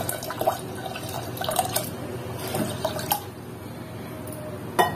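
Water splashes and drips into a metal cooking pot of rice in short irregular bursts, close by, with occasional clinks.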